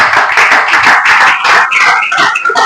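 A congregation at a morning prayer service clapping together in a loud, dense, continuous burst of hand claps close by, with voices faintly mixed in beneath the applause.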